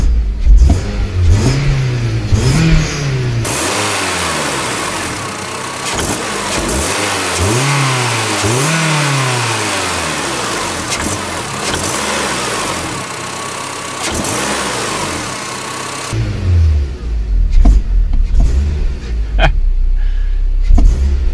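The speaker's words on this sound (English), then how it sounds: "we're gonna give it a little test on the throttle" A Honda Civic fitted with a cheap eBay downpipe revs repeatedly from idle, the engine rising and falling in loud, close sweeps with a steady running drone between pulls.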